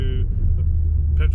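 A Mercedes R-Class with a V6 turbo diesel and all-wheel drive is being driven, heard from inside as a loud, steady low engine and road drone while someone talks.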